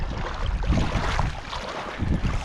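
A canoe paddled out on Lake Manly, a shallow salt-crusted lake in Death Valley National Park, with soft watery strokes and sloshing half buried under steady wind buffeting the microphone.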